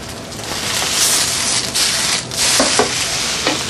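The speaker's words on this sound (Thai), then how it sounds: "ให้แน่ใจว่าไข่กับเส้น เข้ากันดีแล้วเส้นก็ร้อนมากนะครับใช้ไฟแรง" Noodles are stir-fried with egg and seafood in a pan over high heat, giving close, continuous sizzling with scraping stirs and spatula scrapes.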